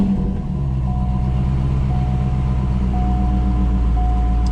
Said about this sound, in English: Let's turn the car on.